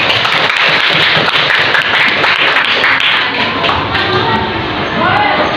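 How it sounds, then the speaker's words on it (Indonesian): Schoolchildren in a classroom clapping for a classmate during a lesson on congregational prayer, a loud, ragged burst of hand claps close by that thins out toward the end, with voices mixed in. "tepuk tangan dulu buat teman kalian"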